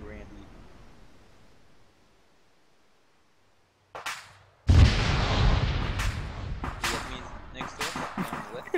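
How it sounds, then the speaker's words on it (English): Vehicle ammunition cooking off in a military video game mission: after a quiet stretch, a loud booming burst erupts and continues as a dense run of cracking, popping blasts, with voices talking underneath. "I think it's the ammo in the vehicles exploding."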